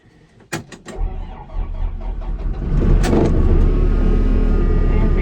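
Diesel engine cranking and catching on the first cold day on a sheep farm, a few sharp clicks then a rough starter whir building into a loud, steady, rumbling idle close by, no voices heard.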